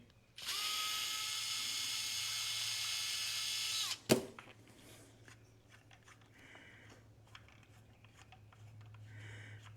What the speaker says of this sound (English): I got a powered screwdriver.